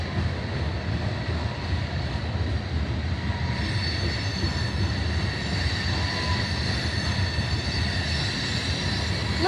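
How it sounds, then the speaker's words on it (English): A loaded coal train rolls past in Lawrence, Kansas, with a steady loud rumble of wheels and wagons and high squealing from the rails throughout; no horn stands out clearly. "I don't know why a train driver's honking."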